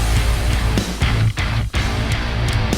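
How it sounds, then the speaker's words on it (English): An 808 bass hit in a dense music mix, a loud booming low end sustained under busy upper layers, with two brief dropouts breaking the flow. "And then the 808 hits right there, which sounds like this."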